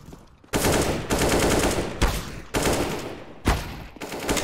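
Sustained bursts of automatic gunfire in a competitive first-person shooter, loud and close, with sharp onsets every half second to second as several volleys overlap.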